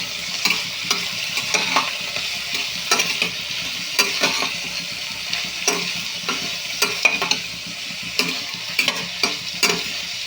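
Mixed vegetables for upma fry in a pan while a utensil stirs, giving a steady soft sizzle with repeated scraping taps, no voices.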